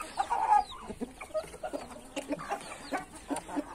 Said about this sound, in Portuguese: Muita galinha botando,